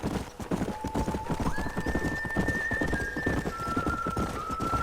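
A horse in the Western video game Red Dead Redemption trotting with rhythmic clip-clop hoofbeats, joined by a long drawn-out neigh that rises and holds over the steady gait, moderately quiet.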